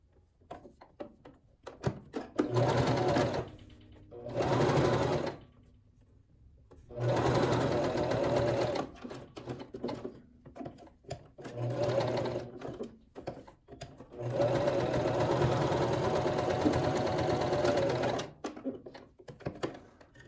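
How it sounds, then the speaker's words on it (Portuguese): A sewing machine stitches a seam on a fabric wallet-style handbag, running in several loud, steady bursts of rapid mechanical whirring separated by short pauses and handling noises. "E vou passar uma costura aqui fechando."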